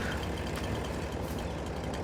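Steady tractor engine rumble from the Farming Simulator 22 video game, with a low, continuous drone running evenly throughout at moderate, close level and no speech.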